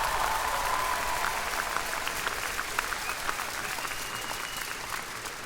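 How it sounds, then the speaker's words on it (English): A large undergraduate commencement crowd gives a full, sustained round of applause for Milana Weintraub, a thick continuous roar of clapping with faint crowd noise mixed in. "One more round of applause for Milana Weintraub"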